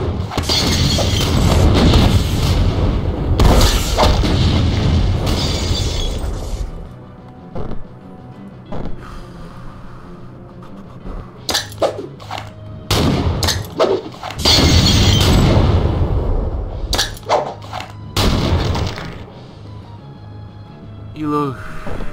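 Loud rocket blasts in the Brutal Wolfenstein game, booming explosions with shattering debris that come in several heavy waves, with quieter crackling between them and a voice talking throughout.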